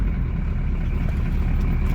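An Oldsmobile 5.7-liter diesel V8 idles just after a cold start, a steady, loud low rumble with an even churning rhythm, close by and without talk.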